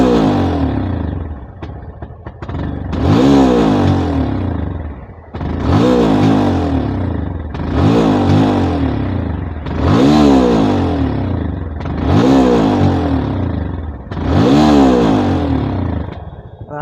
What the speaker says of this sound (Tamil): ஃபுல் ரைஸ் பண்ணுறேன் பாருங்கள்.